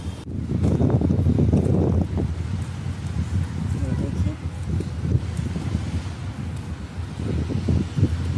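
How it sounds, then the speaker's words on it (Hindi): Wind blows hard outdoors on a sunny outing among pink flowers, roaring and buffeting the microphone continuously and loudest at the start, with a voice talking through it. "बहुत अच्छा हवा चल रहा है"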